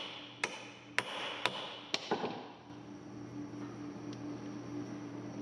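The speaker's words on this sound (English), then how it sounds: "Just go ahead and tap around the perimeter of that bad boy and it'll loosen it right up" A part on a 1962 Ford Thunderbird convertible is struck around its edge with about five sharp, close metallic taps in quick, uneven succession, followed by a steady low hum.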